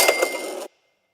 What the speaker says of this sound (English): That alert was late.